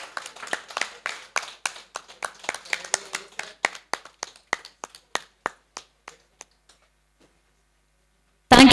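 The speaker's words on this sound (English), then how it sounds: "High round of applause is a token of appreciation." Audience at a sustainable development conclave and national awards ceremony claps in a scattered, uneven round that thins to a few separate hand claps and dies away after about seven seconds, followed by a sudden loud burst at the very end.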